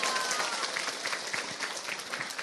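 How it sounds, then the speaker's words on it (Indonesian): Audience applause at an Indonesian religious talk by a female preacher: a dense, soft wash of many hands clapping, steady and moderately distant for a couple of seconds. "tepuk tangan dulu dong"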